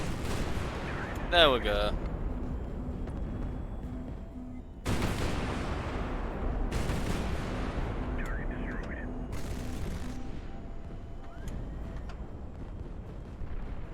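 Naval guns firing in the warship game High Fleet, heavy booming rounds and rumbling blasts recurring over a constant low roar, with someone speaking briefly between shots.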